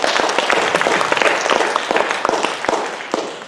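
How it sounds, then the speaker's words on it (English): Steady applause from an audience at a spring group showcase performance, dense overlapping claps with a few sharper individual hits, fairly loud and close, fading slightly at the end with no talk over it. "Can we have another round of applause for the previous group?"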